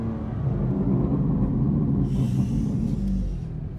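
A BMW engine idles with a deep, steady low rumble, loud and close, holding an even tone throughout with a slight swell near the end and no talking over it.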